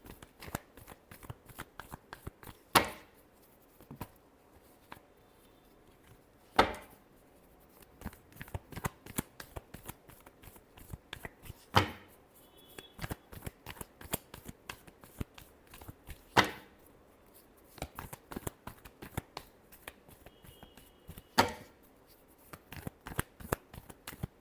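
Tarot cards are shuffled by hand in a long run of quick riffling bursts and soft flicks, fairly quiet and close, with a few louder snaps along the way.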